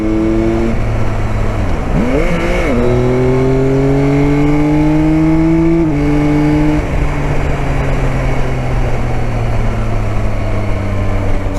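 A 2021 Yamaha Tracer 9 GT motorcycle accelerates hard through several gears, each rising engine pitch cut by a quick shift, loud and close throughout, with no talk.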